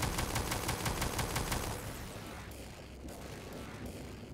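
An automated turret in the video game Prey fires a rapid, evenly spaced burst of shots that stops abruptly partway through, leaving quieter, muffled background noise.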